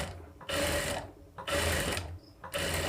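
A sewing machine stitches a binding strip onto a blouse neckline in three loud, close bursts, each about a second long, separated by brief pauses.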